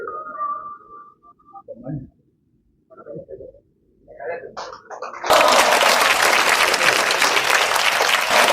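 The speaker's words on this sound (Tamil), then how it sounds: "மண்டபம் நிறைந்த கரகோஷத்தோடு" A hall full of people bursts into loud, sustained applause at a music album launch event, starting abruptly after a few seconds of quieter speech and continuing steadily to the end.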